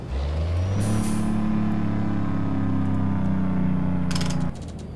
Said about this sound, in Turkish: Güzel retarder sesi, motor sesi.